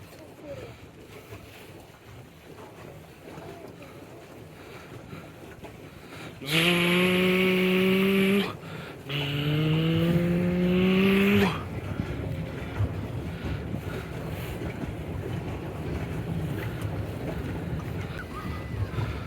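A Barbie children's toy water car motors across water, its electric motor whining in two rising bursts a few seconds long, close and loud over steady wind and water noise, with voices nearby.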